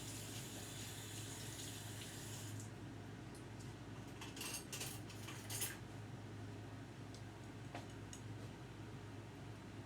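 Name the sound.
rinsing hand off with water from a cup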